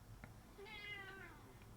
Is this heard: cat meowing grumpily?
yes